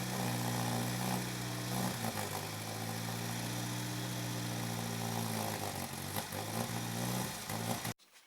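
Small Renault 4CV engine idles close by with a steady throbbing hum and occasional uneven sputters, running continuously until it cuts off abruptly near the end.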